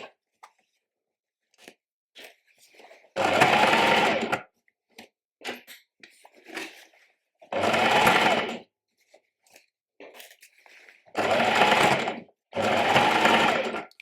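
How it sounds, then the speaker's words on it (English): A sewing machine stitches a ruffle onto trousers in four long, steady runs of a few seconds each, separated by short pauses filled with small clicks and handling noises, with no talking. "And now I can go in with my machine and sew that in place."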